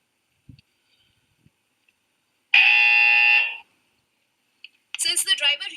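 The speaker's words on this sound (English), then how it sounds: "The buzzer was played to alert the driver and wake him up" A driver fatigue alert buzzer, likely from drowsiness-detection software, sounding one loud steady electronic tone for about a second. Faint clicks come before it, and a burst of bright, chirpy electronic sound follows.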